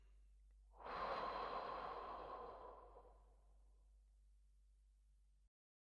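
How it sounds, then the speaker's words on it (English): One long, deep breath, a soft airy rush that rises quickly and then slowly fades over several seconds, close and quiet, in a calm room with no other sound. "Take a deep breath in and a deep breath out"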